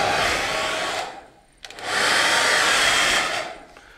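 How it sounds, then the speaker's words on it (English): A hair dryer plugged into a newly installed outdoor outlet whirs with a loud, steady airy roar, briefly drops out for a moment, then starts up again and keeps running close by. "and there you go, hair dryer is working"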